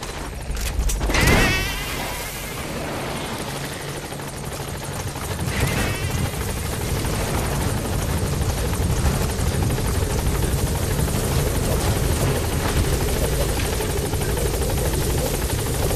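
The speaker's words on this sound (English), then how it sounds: "Support helicopter has arrived." Support helicopter in Metal Gear Solid 5 arriving at a landing zone: a loud, continuous rotor roar with rhythmic blade chop that swells after a sharp initial burst and holds steady and close throughout.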